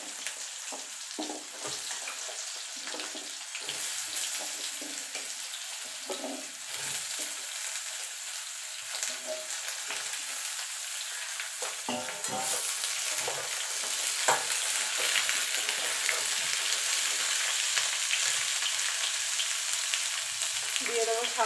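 Ridge gourd fries in a pan with a tempering of dry red chilli and black cumin, a continuous close sizzle and crackle with occasional stirring scrapes, growing slightly louder toward the end.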